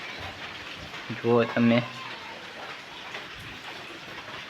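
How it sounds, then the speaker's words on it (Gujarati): Heavy rain falls steadily as a broad, even hiss throughout, with someone speaking briefly over it near the start. "એકવાર વરસાદ ચેક કરો મિત્રો કેવો આવે છે નહીં"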